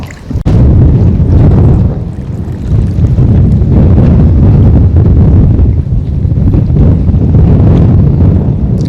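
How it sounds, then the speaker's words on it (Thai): Strong wind and rough waves batter a fishing boat out on the water, a loud, steady roar of wind buffeting the microphone and churning water for the whole stretch, with no talking. "แรงอย่างมากเลยครับคลื่นแรง"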